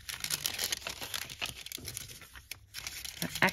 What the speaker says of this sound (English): Just going to rip a piece.